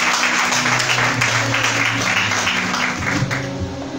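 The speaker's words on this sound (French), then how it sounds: "Acclamons le Seigneur" Congregation at a midweek church service in Togo breaks into sustained clapping and applause, a dense steady roar that fades slightly near the end.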